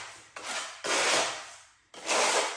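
A trowel butters adhesive onto the back of a reclaimed tile, scraping with its flat edge. Three close, gritty rubbing strokes each swell and fade, with short pauses between them.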